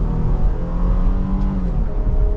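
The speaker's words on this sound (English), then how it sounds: "that was just half throttle, not redlining the engine or anything crazy" A 2023 Jeep Grand Cherokee Altitude 4X4 V6 accelerates at half throttle in sport mode, a steady, loud engine drone with rising tone, heard from inside the cabin and without talk.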